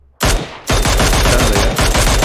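Loud, close bursts of automatic gunfire from PUBG Mobile crackle in rapid succession, with a short pause before a longer sustained string of shots.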